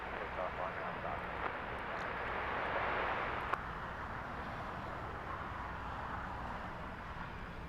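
An American Airlines jet takes off at LAX, a faint broad distant engine roar swelling slightly and then holding steady, under a radio voice.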